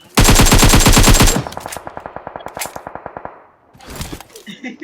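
PUBG Mobile gunfire: a loud, dense burst of automatic fire, then a slower string of sharp single shots and another short burst, with brief clangs and no talk over it.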